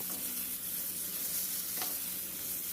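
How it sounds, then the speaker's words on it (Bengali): Fried potato and pumpkin pieces being stirred into a spice masala in a pan produce a soft, continuous sizzle, with a single faint scrape of the spoon partway through. "মশলার সাথে ভালো মতো মিশিয়ে নিচ্ছি"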